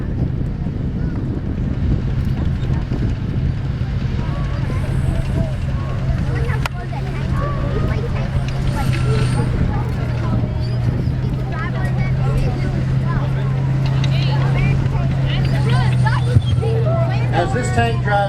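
An old Russian tank rumbles past outdoors with a deep, steady engine drone and track clatter, while wind buffets the microphone and someone talks over it.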